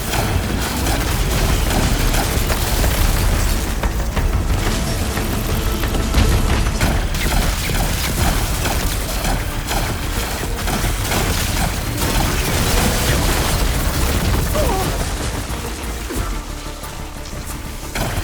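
Heavy weapon salvaged from a dead machine firing in Horizon Forbidden West, a long loud barrage of booming blasts, crashes and mechanical clatter that tapers slightly near the end.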